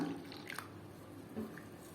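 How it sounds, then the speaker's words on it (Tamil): Water poured into half a cup of oats in a bowl for an oats omelette; faint trickling and splashing with a couple of soft liquid pulses over steady background hiss. "நம்ம இப்போ இது தண்ணி சேர்த்து கலந்துக்கலாங்க."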